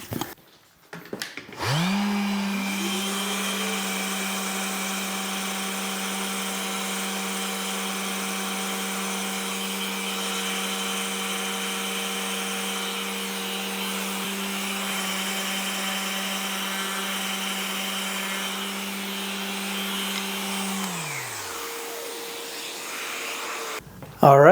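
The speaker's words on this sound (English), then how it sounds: "now we got to sand the inside of them because it's going to be a little difficult to get to it once you get it all glued up." A power sander hums steadily and loudly as it sands the inside of cut wood pieces for a pen and pencil gift box, spinning up at the start and winding down near the end.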